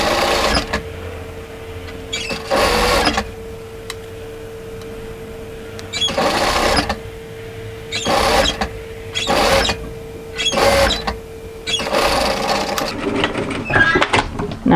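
A sewing machine stitching a hem with back tacking, running in repeated short bursts of rapid whirring stitches separated by brief quiet pauses, close and fairly loud.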